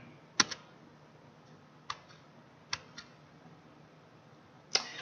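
A few sharp, isolated key clicks on a computer keyboard, spaced irregularly over quiet room tone, with no talking.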